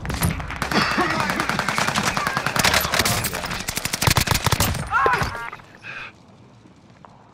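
Rapid automatic gunfire in a shooter video game, dense and loud bursts rattling for about five seconds before cutting off to quieter game sounds.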